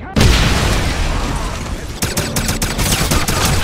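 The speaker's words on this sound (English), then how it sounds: "Let's throw a grenade." A grenade blast in the World War II shooter Wolfenstein (2009) booms loudly and fills the scene with rumbling debris, followed by a rapid series of sharp gunfire cracks close by.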